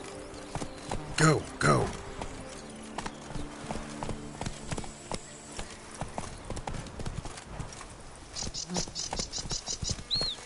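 Horse hooves clip-clop steadily at a gallop in a PS4 video game, a continuous rhythmic clatter at moderate distance, with brief voices calling out and other game sounds layered over it.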